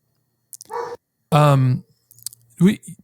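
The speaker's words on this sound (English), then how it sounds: "Sorry about the dog back there." A dog barks and yips in a few short bursts, fairly close and loud, with quiet gaps between them.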